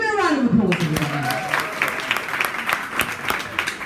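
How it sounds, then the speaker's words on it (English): Audience applause at a book launch at Scoops Theatre of Books in Johannesburg: a voice speaks first, then distinct claps begin and build into an uneven patter of hands, with talking continuing over it. "Can we give a round of applause, everybody?"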